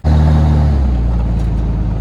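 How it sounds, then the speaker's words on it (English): A John Deere 8310R tractor hitched to a 30-foot 1795 split-row planter for bean planting, its engine a loud, steady, deep diesel drone heard close up throughout. "I'm gonna be running this John Deere 8310R with a 30-foot 1795 split row planter."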